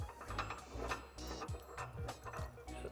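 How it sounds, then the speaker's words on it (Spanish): A ratchet clicks rapidly in short repeated bursts, tightening bolts on a towbar fitted to a 2021 facelift Land Rover Range Rover Evoque, close and crisp with a steady back-and-forth rhythm. "Apretaremos los 4 tornillos a 87 Nm."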